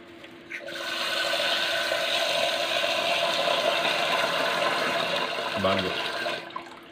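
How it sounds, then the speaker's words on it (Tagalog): Steady rushing of water pouring into a pot for several seconds, fairly close, with a brief clunk near the end. "Lagyan natin ng tubig."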